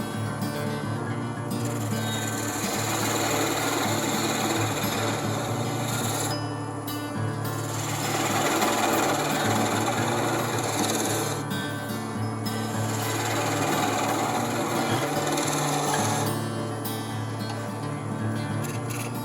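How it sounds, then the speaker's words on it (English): Skew chisel cutting a wooden snowman hat on a spinning woodturning lathe, a steady close rasping, scraping shave over the low hum of the machine, with brief dips where the tool lifts off the wood. "So let's pick our skew back up, and now let's take this and finish the hat."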